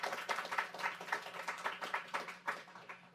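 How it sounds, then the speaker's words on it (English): Audience at a morning Brookings policy event with FCC and FTC commissioners claps in a steady, close round of applause, with sharp repeated bursts lasting a few seconds and no talk over it. "Let's give them a round of applause for being here this morning with us."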